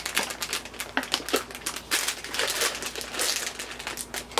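A plastic bag of Bissli snack is torn open and handled up close. Sharp crinkles and crackles come in quick, irregular bursts for several seconds, with no voices.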